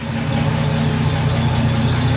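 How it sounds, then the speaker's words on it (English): The engine of a BMC Wolseley Farina 24/80 under restoration runs steadily at a low, even idle with a faint tappet noise, heard up close and with no voices. "Sounds like it's got a bit of tappet noise"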